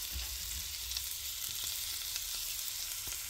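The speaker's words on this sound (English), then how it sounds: "Those you need to saute very nicely so they can break down a little." Chopped ham and mushrooms sauté in butter with onion in a pan, a steady soft sizzle and crackle of frying with faint stirring, no voices.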